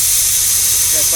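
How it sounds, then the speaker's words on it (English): Air rushes out of a front hub, a loud, steady, close hiss that fills the whole moment. "Just let a little air out of there."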